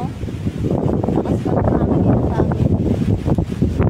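Wind buffets the microphone with a steady, rough rumble, blended with other outdoor noise.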